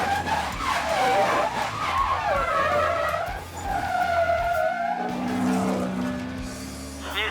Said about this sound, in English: I just did a 360.